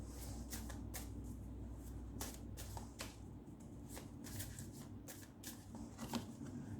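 Tarot-style cards are flipped and shuffled during a card reading, giving a run of crisp, papery snaps and flicks at an irregular pace, close and quiet, over a low steady hum with no talking.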